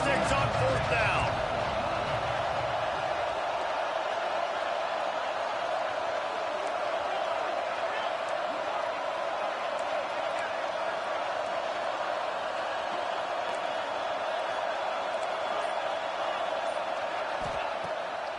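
A stadium crowd in a college football video game keeps up a steady, even roar beneath a commentator's voice throughout.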